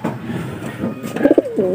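A weak pet pigeon coos softly nearby, a few low, throaty warbling calls rising toward the end over faint background noise.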